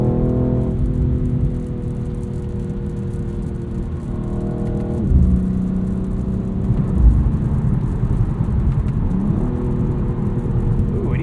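A 2022 BMW X3 M Competition's engine drones steadily from inside the cabin, then blips its revs up twice in quick succession as it downshifts, each sharp rise settling back into the steady hum.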